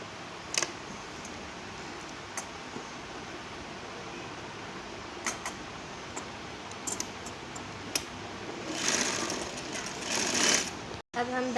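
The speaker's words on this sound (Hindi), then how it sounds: "दामन की सिलाई लगा रहे हैं" A sewing machine stitches the hem of a simple kurti, a steady low mechanical whir running throughout with a few sharp clicks and a brief louder burst near the end.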